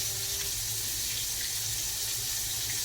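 A steady stream of tap water runs into a kitchen sink as raw chicken is rinsed, a continuous close hiss and splash with no talking.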